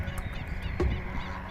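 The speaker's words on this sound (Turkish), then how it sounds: "flamingoymuş gerçekten de" Flamingos near Bodrum give honking, goose-like calls, a faint chorus with one slightly louder call standing out from the flock at a moderate distance.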